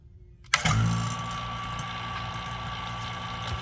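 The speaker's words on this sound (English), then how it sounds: "Vacuum out the system, go plug it in, and that vacuum pump is not loud." Vacuum pump starting up on a refrigerator sealed system during a compressor replacement on an LG fridge, switching on abruptly and then running at a steady mechanical hum with a whine, fairly loud and alone.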